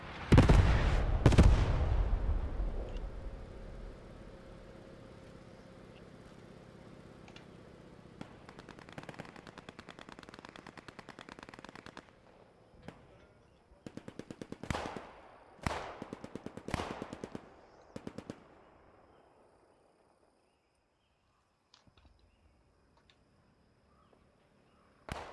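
Gunfire and tank fire in the Post Scriptum war game at Etreham, starting with a heavy close blast and rolling echo, then a lull before a string of sharp, rapid shots in uneven bursts that fade into near silence.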